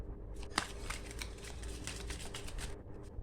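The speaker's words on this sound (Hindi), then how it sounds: "पहले शफल कर लेते हैं" Pendulum reading cards shuffled by hand, a quiet rapid riffling flutter with a sharper snap early on, continuing for a few seconds before fading.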